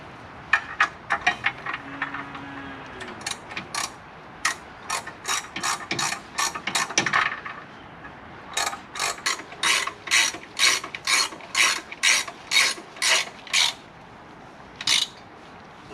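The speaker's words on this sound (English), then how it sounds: "good old ratchet spanner" A 30mm ratchet spanner works on bolts during a vehicle front linkage build, giving bursts of sharp, rapid clicking pawl strokes, loud and close, with short pauses between runs of clicks and no voices.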